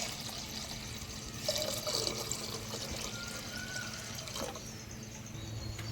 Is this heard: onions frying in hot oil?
no